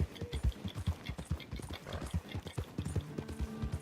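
Horse hooves clip-clop in steady rhythm in Red Dead Redemption 2, moderately close and fairly quiet, with a brief whinny-like tone near the end.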